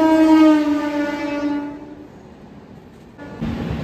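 A passenger express train near Panagarh blows a loud horn as it passes, then rumbles away and fades quickly, leaving quiet before another burst of rushing noise.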